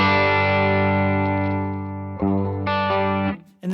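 Electric guitar through an AC20 amp model in an FM9, set at the edge of breakup, a gritty sustained chord that rings and slowly fades before two fresh strums near the end.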